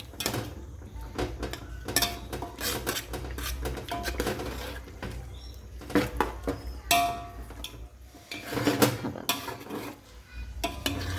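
A spoon clatters against a pot as chicken biryani with yogurt is stirred, giving irregular close metallic scrapes and knocks that run steadily throughout with no talk.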